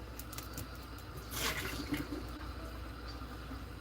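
Water being poured out of a cooking pot into a sink, a short gush midway through over a steady low kitchen background, fading quickly.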